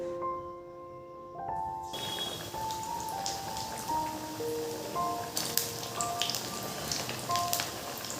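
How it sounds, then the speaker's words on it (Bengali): Samosas (singara) frying in hot white oil, a steady crackling sizzle full of fine popping bursts, close and continuous, with brief tonal clinks near the start. "এখানে আমার তেল গরম হয়ে গেছে, এখানে আমি সাদা তেল ব্যবহার করছি, আর আমি সিঙ্গাড়াগুলো ভেজে নেব।"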